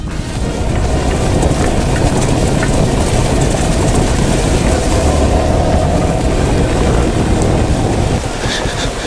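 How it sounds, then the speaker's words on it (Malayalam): Heavy rain pours down steadily in hill forest close to a waterfall in Idukki. It makes a dense, loud, unbroken roar for the whole stretch with no voices. "ഞാനിവിടെ ക്യാമറ യൂസ് ചെയ്യാൻ പറ്റാത്ത രീതിയിൽ മഴയാണ് ആക്ച്വലി. ഇതുകൊണ്ട് നല്ല മഴയാണ്."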